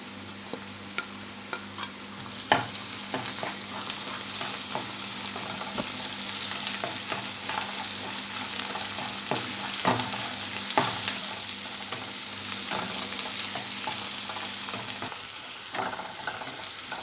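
Ginger paste and finely chopped green chillies fry in a pan for a green paneer masala, sizzling steadily while a spoon scrapes and taps the pan at irregular intervals, with no voices present.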